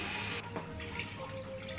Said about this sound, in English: with the can, put some cold water in